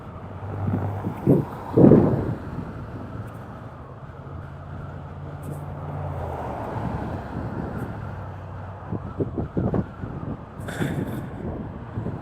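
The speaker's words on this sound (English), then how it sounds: "It is quite windy though." Steady wind buffets the microphone with low rumbling gusts, a couple of louder thumps early on, while an engine-like drone hums underneath throughout.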